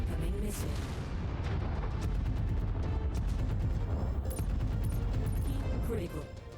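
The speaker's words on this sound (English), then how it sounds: "Incoming missile." Incoming missile explosions in MechWarrior 5: Mercenaries, heavy rumbling blasts and rapid impacts packed tightly together, loud throughout, with a voice talking over the barrage.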